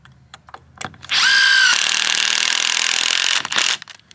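An impact driver drives a screw into wood while building a fence, giving one loud, close, sustained rattling whir of about two seconds, with a short spin-down burst afterward and scattered handling clicks around it.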